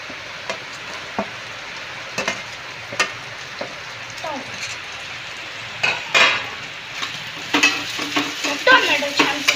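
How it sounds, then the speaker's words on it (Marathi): Tomatoes frying in a pan alongside onions with eggs being prepared, a steady sizzle under scattered stirring and utensil clicks that grow louder and busier toward the end. "टोमॅटो छान भाजून घ्यायचं."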